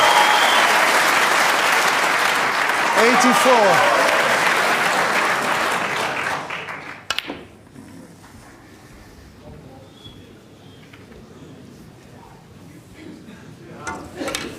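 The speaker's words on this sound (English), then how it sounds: "And listen to the crowd." A snooker World Championship final crowd at the 2013 final breaks into loud, sustained applause that swells and then stops abruptly halfway through, leaving a quiet hall where a commentator speaks briefly.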